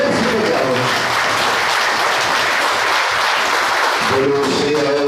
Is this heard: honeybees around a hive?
no